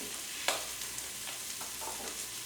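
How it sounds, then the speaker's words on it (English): Vegan oxtail soup ingredients sizzle and crackle loudly in a pot as broth is added, with a sharp burst early on and steady frying hiss throughout. No one speaks. "You guys hear that sizzle?"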